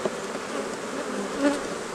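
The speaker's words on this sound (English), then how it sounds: "There are bees, they're drawing it out a little bit" Honey bees buzz steadily around the hive frames during a beekeeping split check, a close, continuous insect drone with slight swells and no voices.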